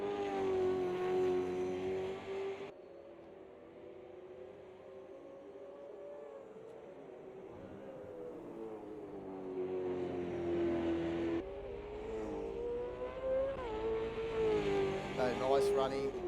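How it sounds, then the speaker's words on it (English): V8 Supercars racing at Bathurst in a sim racing game, engines droning loudly and steadily with rising and falling pitch as the cars speed along, under continuous race commentary. "where they're reaching 290 kilometres an hour here in these V8 supercars"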